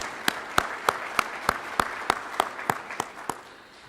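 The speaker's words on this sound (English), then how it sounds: "Let's have a big round of applause for our speakers." Slow, evenly spaced single claps ring out about every third of a second after a seminar talk on working and migrating to the USA, each crisp and distinct, fading slightly toward the end.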